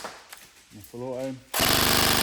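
A CYMA MP5K PDW airsoft electric gun fires a fast full-auto burst, a loud, rapid, evenly buzzing stream of shots that follows a brief stretch of talking.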